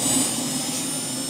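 Helicopter flying over a primary school in Burnley, East Lancashire, at a Christmas visit, a steady, loud turbine whine and engine roar holding evenly throughout without talk.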